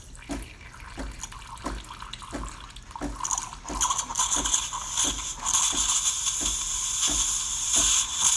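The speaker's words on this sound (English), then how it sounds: "And the machine steams well." A Delonghi espresso machine, fitted with a replaced valve and manifold, steams milk with a continuous hiss that grows louder and brighter. Gurgling pulses come at regular intervals of about a second, close by, with no talking.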